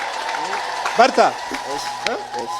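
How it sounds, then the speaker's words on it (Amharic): A crowd ululates in praise at a religious gathering, rising trilled voices swelling in bursts around the middle and again near the end, over a steady background of voices. "3 ጊዜ እልል ብላችሁ አመስግኑልኝ"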